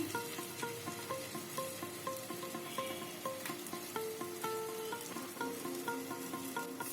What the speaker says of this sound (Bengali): এই কারি পাতা দিয়েই আমি কিন্তু ফ্রাইটা করবো মাছটা ভাজবো